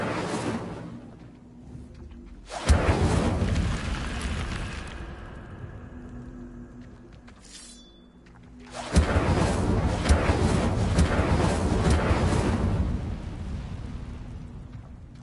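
Fiery spell bursts cast in Hogwarts Legacy gameplay: two loud, broadband whooshing blasts, one around the third second and a longer one from the ninth, each sustained with roaring crackle and separated by quieter ambience.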